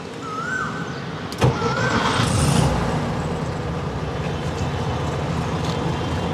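A classic VW Beetle's air-cooled engine starts with a sharp crank and catch, then revs up and settles into a steady, fairly loud idle nearby. A faint tonal squeak is heard early on, and nobody speaks.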